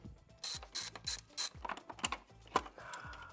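A ratchet wrench undoes the T40 Torx screws holding the idle control valve on a BMW E46 engine, giving close, crisp bursts of rapid clicking in about eight quick strokes.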